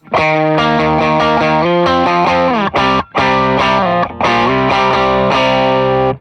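An electric guitar through a Meris Enzo X edgy overdrive preset plays sustained chords and a few slides, loud and saturated, with a brief gap near the middle.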